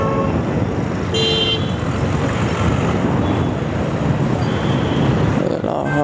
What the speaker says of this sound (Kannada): ಅವರು ಹಾರ್ನ್ ಹೊಡಿಯಕ್ಕೆ ಸ್ಟಾರ್ಟ್ ಮಾಡಿದ್ರು